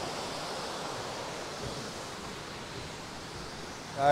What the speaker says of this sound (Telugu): ఇక్కడ మినీ వాటర్ ఫాల్ ఒకటి చూడండి